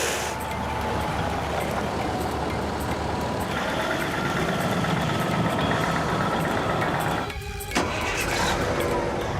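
Heavy engines of a Bobcat and a Freightliner winch truck run steadily while pulling a hull, a continuous loud diesel rumble with a brief mechanical clatter near the end.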